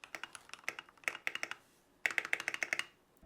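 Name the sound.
typing on Keychron K8 Pro mechanical keyboard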